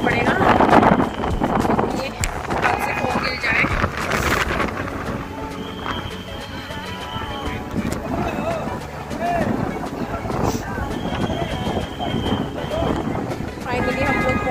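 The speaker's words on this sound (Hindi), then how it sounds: "देखिए गाइस आप देख ही सकते हैं कि बहुत तेज हवा चल रही है।" Strong mountain wind on the pilgrimage path to Vaishno Devi buffets the microphone with loud, continuous rumbling gusts, while people talk throughout.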